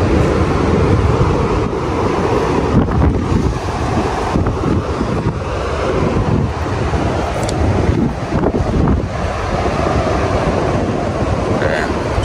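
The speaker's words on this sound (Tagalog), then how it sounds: "Tapos ito yung parang harap ng sa dagat." Sea waves and wind along a shoreline, a continuous roaring rush with buffeting wind on the microphone, steady and fairly loud throughout.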